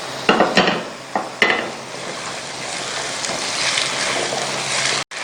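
Garlic and potatoes fry together in a pan with a steady broadband sizzle, broken near the start by a few sharp clatters of stirring, and the sizzle holds fairly loud throughout.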